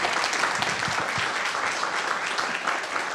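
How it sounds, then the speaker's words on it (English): Steady, dense applause from an audience at a town meeting on a vision plan, a continuous wash of many clapping hands filling the room at even loudness, with no speech over it. "Give her a big round of applause."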